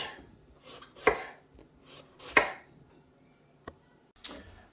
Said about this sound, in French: on va couper l'aubergine en rondelles